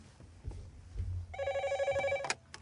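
A telephone rings indoors with a bright electronic trill sounding in one short burst after some faint rustling and thumps, then stops abruptly.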